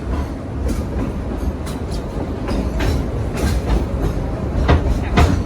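Dollywood Express steam train rolling along rails in Tennessee, a loud, close, continuous low rumble with rhythmic clickety-clack of wheels over rail joints and occasional metallic squeaks.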